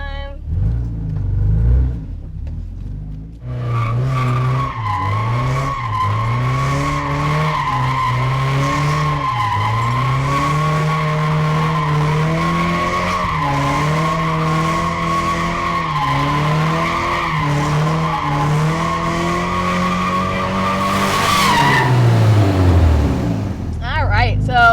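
Car with a welded differential spinning donuts, its tires skidding and squealing in a long continuous howl over a steady engine drone, close and loud for around twenty seconds before fading out.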